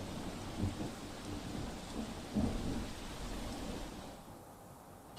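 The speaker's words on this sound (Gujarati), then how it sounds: "દક્ષિણ ગુજરાતમાં ફરી એકવાર ધોધમાર વરસાદની શરૂઆત થઈ છે." A heavy monsoon downpour falls over Surat streets as a steady, dense rain hiss with a low rumbling undertone, continuous and fairly close.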